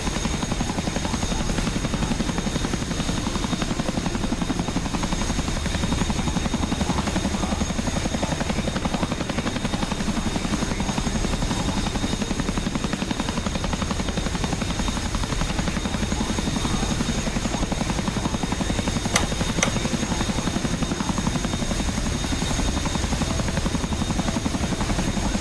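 A Dassault Rafale delta-wing fighter jet's engine in a flight simulator game drones steadily and loudly for the whole stretch, a dense buzzing roar with no pauses and no voices.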